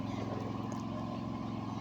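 Low, steady engine drone of a wooden ferry boat at the Kagarchar river crossing toward Barishal, a faint pulsing motor hum throughout.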